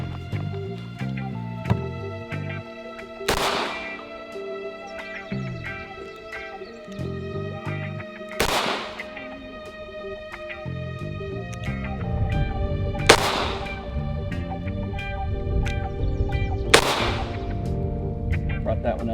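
A revolver with a tiny barrel of about 1.25 inches fires four sharp, loud shots spaced several seconds apart at a shooting session, each crack cutting over steady background music.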